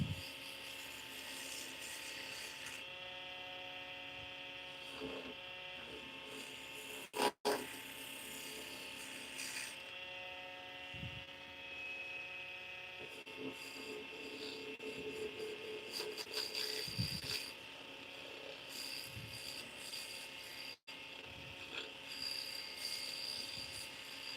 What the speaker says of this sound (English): So right now I'm just using my skew to kind of even it up a little.